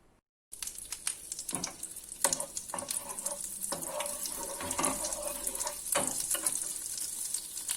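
Butter melting in a pan for a Turkish breakfast dish gives a steady, moderately loud sizzle and crackle with scattered pops and brief clinks throughout, close by and without talk.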